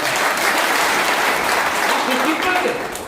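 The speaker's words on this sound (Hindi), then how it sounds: "2000 तालियों से मैडम को बात" Dense, steady applause from an audience at a public guidance meeting in Bhadgaon fills the whole stretch, loud and continuous, tapering slightly at the very end.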